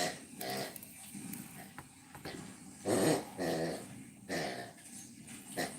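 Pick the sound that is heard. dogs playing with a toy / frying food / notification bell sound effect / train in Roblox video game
dogs playing with a toy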